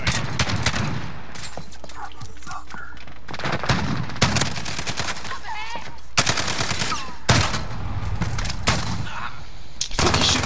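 A short-barrelled gun firing in a video game, with loud, rapid bursts of shots repeating across the stretch and a voice speaking briefly between them.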